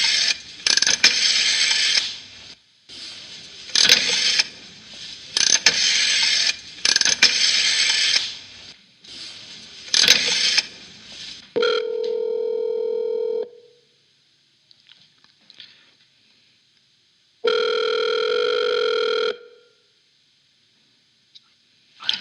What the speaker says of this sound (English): We're dialing Dan's number now.